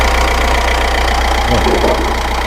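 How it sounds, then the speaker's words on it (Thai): The 2.5-litre diesel engine of a 2019 Mitsubishi Triton Megacab GLX pickup idles steadily close by, a constant low rumble with a faint rhythmic knock throughout. "นี่เสียงเครื่อง"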